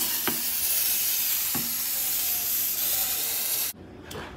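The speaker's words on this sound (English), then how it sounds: "I'm just gonna go ahead and spray it with canola oil." Canola oil sprayed onto a ribeye steak for the air fryer gives a steady, close hiss with short spritz bursts at intervals, then cuts off abruptly near the end.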